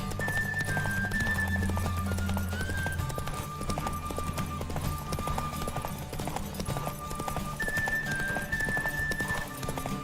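Horse hooves clip-clop steadily in a fast run during a race in The Witcher 3 video game, over game music and ambient sound with occasional clinks, with no talking.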